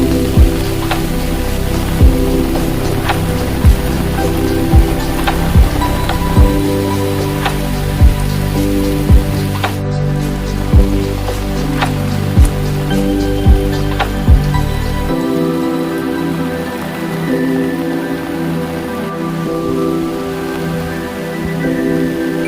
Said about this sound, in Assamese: ইমান বৰষুণ আৰু বৰষুণ দি আছে